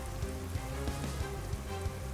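Rain weather effect in the Pokémon Shining Pearl video game, a steady hiss of falling rain layered under looping game music with a thumping bass pattern, continuous and fairly loud, with no voices.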